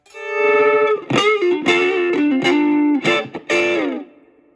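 An electric guitar through a Fender Champion 20 amp set to a 60s British Marshall-style crunchy, dirty tone, playing a short sustained riff with bent notes and a few choppy chords, loud and close, with no talking.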